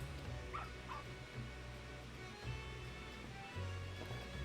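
A puppy's yips and small whimpering barks in Final Fantasy XIV, set in Aleport in La Noscea, sounding as a few brief high cries over a steady low game background hum.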